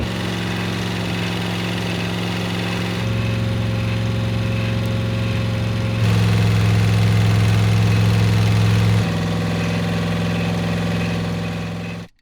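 Rebuilt 1985 IROC Camaro 305 V8 settling into a steady idle, its low hum stepping up and down in speed every few seconds, close and even, then cutting off abruptly at the end.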